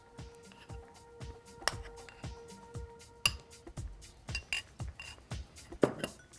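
Softened room-temperature butter, 150 grams, is whisked for a caramelized red orange cake batter, giving a quick, regular rhythm of close clinks and scrapes as the whisk strikes a bowl, with no talking.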